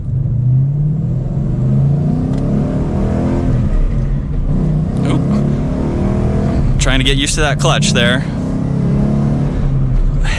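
A Ford Mustang GT's 5-liter V8 with a manual gearbox rumbles and revs through the gears in traffic, a steady low engine drone heard from inside the car under a voice.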